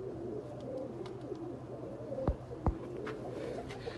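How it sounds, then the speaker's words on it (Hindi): A golden kamagar pigeon, a breeder bird in Faisalabad, gives soft low wavering coos close by in a quiet setting, broken by two sharp brief knocks. "ये एक गोल्डन कमगर कबूतर है"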